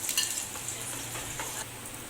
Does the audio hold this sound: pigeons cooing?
no